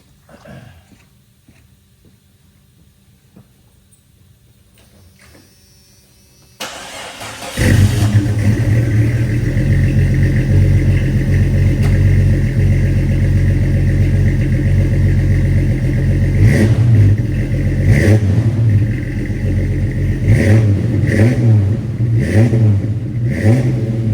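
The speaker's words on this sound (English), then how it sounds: "We'll go ahead and do a quick little startup, and I just do a couple little revs" A 1995 Jeep Cherokee XJ with a Stage 2 build cranks and fires up after a quiet stretch, then settles into a loud, steady running note, rising in a few short revs toward the end.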